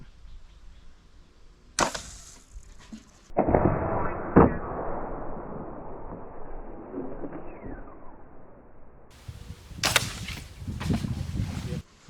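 A fishing crossbow is fired from up in a tree down toward a target below, giving a sharp snapping release followed by a thud and rustling, with further loud knocks and handling noises near the end.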